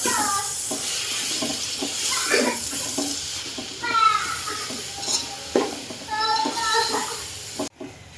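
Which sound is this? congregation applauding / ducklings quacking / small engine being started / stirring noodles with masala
stirring noodles with masala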